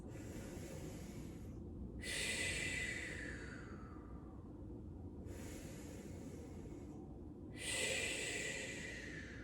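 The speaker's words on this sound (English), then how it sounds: "let's take 3 deep breaths" Two slow, deep breaths, each a long inhale followed by an exhale, are taken during a calm children's yoga session; they sound soft, close and airy over a quiet background, with no speech.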